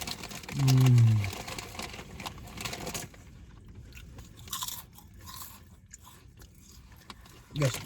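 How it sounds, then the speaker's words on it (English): Crunchy sweet Rap Snacks chips are chewed close to the mic, giving a loud crackling bite at first and then scattered softer crunches. "Got some crunch action going."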